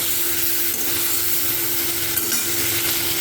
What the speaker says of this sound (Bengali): এই কড়াইতে ফুলকপি আলুটা ভেজে নিয়ে মশলাও এর ভিতরে দিয়ে দিলাম